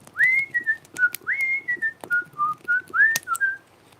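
A pet bird whistles the Andy Griffith theme song, a series of clear rising and falling whistled notes, fairly close with occasional faint clicks.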